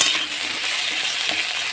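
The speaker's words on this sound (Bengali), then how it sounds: "এখন একটু ভেজে নেবো আমি" Potatoes and Malabar spinach fry in a pan, a bright, steady sizzle with light stirring scrapes and small clinks throughout, close and continuous with no talking.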